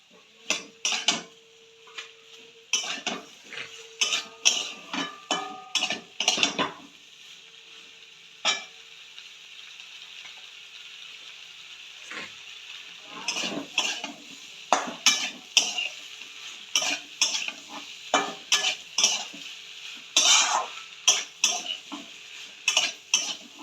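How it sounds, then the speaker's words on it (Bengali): Fried potatoes and radish are stirred into a shrimp curry in a pan, with repeated sharp metal spatula scrapes and clanks against the pan in irregular bursts and quiet gaps between them, close by. "এবার আমি ভেজে রাখা আলু মূলো সব দিয়ে দেবো দিয়ে সুন্দর করে কষাতে হবে"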